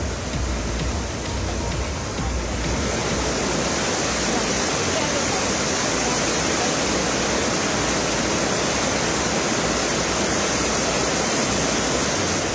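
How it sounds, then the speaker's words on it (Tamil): Floodwater from the Asan river in Dehradun, Uttarakhand, swollen by heavy rain and surging around a temple and homes, roars as a loud, steady, broadband rush throughout with no break. "உத்தராகண்ட் மாநிலம் டேராடூனில் தொடர் மழையால் அசன் ஆற்றில் கடும் வெள்ளப்பெருக்கு ஏற்பட்டுள்ளது."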